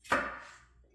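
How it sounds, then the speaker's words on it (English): A knife strikes a cutting board once while chopping onion in a home kitchen, a single crisp close knock that fades quickly. "And no more tears for your onion chopping."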